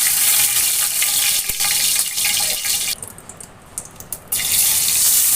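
Bay leaves dropped into hot oil used for frying birista (fried onions) while cooking bhuna fish, a loud continuous hissing sizzle that briefly drops away for about a second before surging back.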